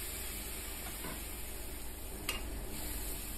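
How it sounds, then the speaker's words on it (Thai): Catfish pieces stir-fried with curry paste in a pan, giving a steady hiss of frying with soft scraping strokes of a spatula and one sharper clink, close and even, without speech. "ผัดคลุกเคล้าให้เข้ากับพริกแกงค่ะ"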